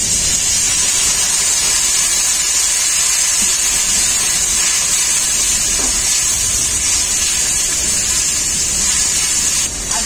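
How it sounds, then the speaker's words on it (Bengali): Ground spices frying in a pan for a mushroom dish just after a little water is added, giving a loud steady steamy sizzle and hiss that stays constant and close throughout. "মশলাটাকে খুব ভালো করে কষানোর জন্য অল্প একটু জল দেবো।"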